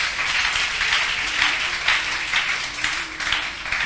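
A church congregation at a worship service claps and cheers continuously, a dense, steady wash of applause with voices mixed in throughout.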